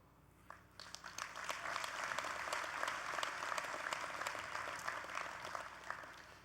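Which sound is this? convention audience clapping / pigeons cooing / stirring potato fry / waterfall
convention audience clapping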